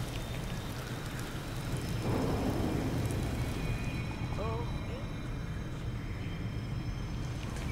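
Heavy rain falls in Disney Dreamlight Valley as a steady, fairly soft hiss with a low rumble underneath and a brief swell partway through. Faint tonal game sounds drift in near the middle.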